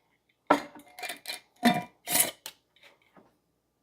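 Dry uncooked rice poured into an Instant Pot inner pot, heard as a series of separate crisp rattling bursts of grains striking the pot, with quiet pauses between pours.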